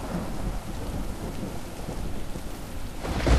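A thunderstorm rumbles in the video game Superbrothers: Sword & Sworcery EP, with dense steady rain and low rolling thunder that swells toward the end, heard alone without talk.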